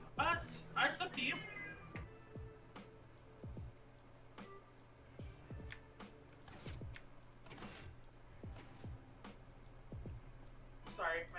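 A pet cat meows a few times, close but fairly soft, with a couple of calls near the start and another at the end, under a voice and light background noise.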